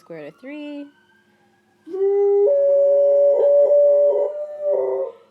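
A dog howls indoors nearby: two short yelps, a pause, then a long, loud, wavering howl that lasts several seconds, with a person's voice heard briefly.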